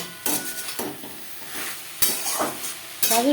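Telakochu greens stir-fried with split green chilies sizzle softly in the pan, broken by several sharp spatula scrapes and clanks against the metal at irregular intervals.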